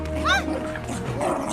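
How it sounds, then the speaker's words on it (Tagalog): A dog gives a short yipping bark with a whimpering edge, close by and brief, with voices talking around it. "Kanino aso yan?"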